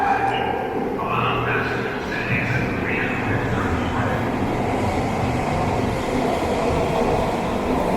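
A train pulls in, its steady rumble and rolling rail noise filling the whole stretch at close range, with faint voices mixed in during the first seconds.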